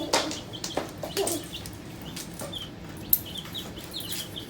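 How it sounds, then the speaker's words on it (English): Backyard chickens cluck and chirp around a coop, with scattered short calls against a quiet outdoor background and no talk. "Do you like Mimi's chickens?"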